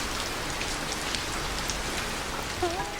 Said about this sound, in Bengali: এখনও ঝিরিঝিরি বৃষ্টি হচ্ছে চারিদিকে জল জমে একাকার অবস্থা